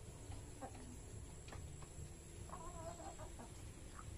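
Chickens cluck in a coop at feeding time in the late afternoon, a steady scatter of short clucks and calls over a constant farmyard hum, fairly close but not loud, with no one speaking.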